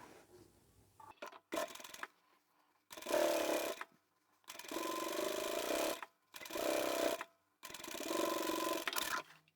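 Sewing machine stitching layered fabric and lining for a flat zippered tablet pouch made from scrap fabric, running in five or six distinct bursts of steady whirring separated by short pauses, close and alone.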